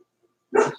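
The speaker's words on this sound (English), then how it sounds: "That's my dog, buddy." A pet dog named Buddy lets out a single short, loud bark up close after near silence.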